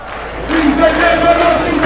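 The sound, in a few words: crowd cheering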